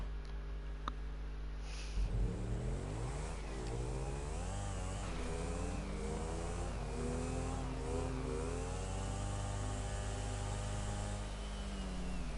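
Car engine revving in GTA 5 Online, rising and falling in repeated swoops of acceleration over a steady low rumble, fairly loud with no talk.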